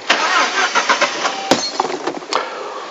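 A Saab 9-5 car engine cranks and catches, a broad, loud mechanical roar with repeated sharp knocks and clunks through the start, settling into a steady running rumble.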